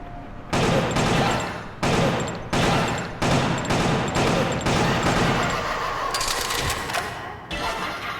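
Rapid bursts of dual-pistol fire in the video game Killer 7, loud and close, arriving in several separate volleys with short gaps, the last stretch turning into a more continuous rattling barrage.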